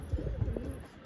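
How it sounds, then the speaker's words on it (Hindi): Pigeons kept by a hobbyist flock give a brief, soft, low cooing call, close by, with no talking. "और ये रे कबूतर"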